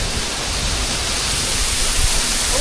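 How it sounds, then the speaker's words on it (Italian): Water of the very tall Cascata della Vergine crashes down close by in a loud, constant broadband roar, heard from right beneath the falls with no voices. "siamo sotto la cascata della Vergine"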